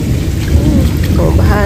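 Heavy rain pours steadily during a flooding storm while a deep rumble of thunder rolls underneath, loud and close, with faint voices in the background.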